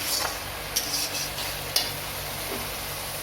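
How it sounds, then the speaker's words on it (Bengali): Onion paste frying in a pan after a tempering of whole cumin and chili, with a steady close hiss of sizzling and a few scraping stirs across the pan, no voices. "পেঁয়াজ বাটাটা খুব ভালো করে কষিয়ে নিয়েছি"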